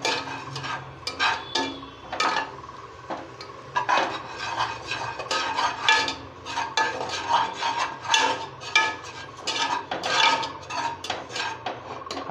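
A spoon stirs rasam powder, sambar powder and other spice powders around a metal pot in quick, uneven scraping strokes, close and clattery, with no voices.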